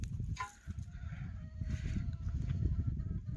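Chickens clucking and calling close by, a steady busy flock chatter with a low rumbling background throughout.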